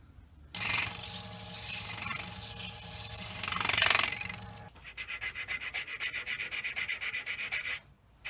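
A woodturned winged bowl is sanded up close: a few seconds of continuous rough rubbing, then a quick, even run of back-and-forth strokes before a short pause.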